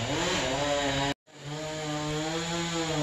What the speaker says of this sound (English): No, that's a chainsaw.